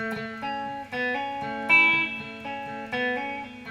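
A guitar riff of clear, sustained notes that step between pitches in a steady pattern, played alone with a slightly processed tone.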